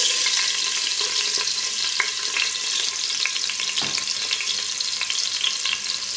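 Chopped ginger sizzles loudly and steadily in a hot pan for octopus adobo, a dense crackling hiss with occasional spoon scrapes and taps, close up and without talking.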